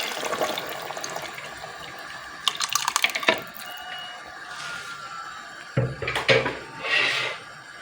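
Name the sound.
adding water to groundnut soup pot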